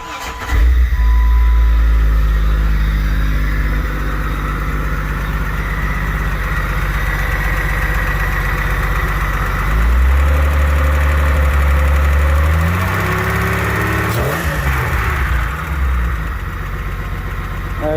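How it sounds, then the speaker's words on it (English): Freshly installed car engine idling after sitting for a long time, with a slight lifter tap; a loud, close, rough idle with a rhythmic ticking knock and a couple of rev changes partway through. "She got a little lifter tap, which that's expected."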